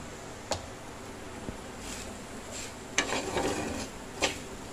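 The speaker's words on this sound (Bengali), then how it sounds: "সুজিটা একটু নাড়িয়ে চাড়িয়ে নিই।" A spoon stirs semolina in a cooking pan, giving quiet scraping and soft sizzling with a few sharp clinks of metal against the pan, faint and close.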